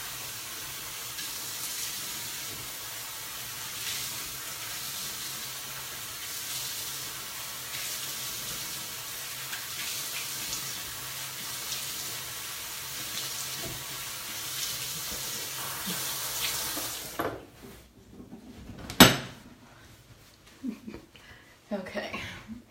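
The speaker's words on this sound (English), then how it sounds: "Okay, I'm going to rinse real quick." Running tap water pours steadily into a sink for a long stretch during rinsing, then shuts off and is followed by a few clatters and knocks.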